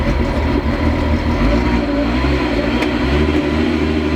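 Volkswagen Mk3 car engine revving loudly and steadily while a drive axle spins, a dense continuous rumble with no talk.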